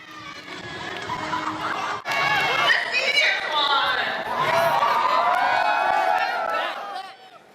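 High school students at a Spirit Week pep rally cheer, whoop and shout together in a loud, echoing crowd roar that swells after a brief break and carries on with excited voices throughout.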